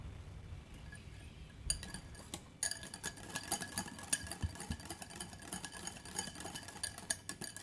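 Whisk clinking rapidly against a bowl as oil is beaten into lemon cake batter, a quiet start then a fast, steady metallic ticking rhythm close by.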